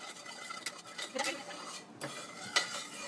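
A spoon scrapes and clinks in a bowl as sugar is mixed into melted butter, quiet close-up stirring with irregular taps and scrapes and one sharper clink near the end.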